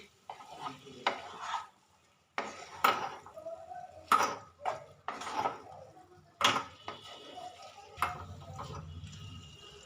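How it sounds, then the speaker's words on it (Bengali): Boiled figs and fried potatoes being stir-fried with spices in a pan, with irregular scraping and clacking strokes of a spatula over a soft sizzle, close and fairly loud, with no talking. "মশলার সাথে ভালো করে মিশিয়ে একটু কষে নেবো 2 মিনিট।"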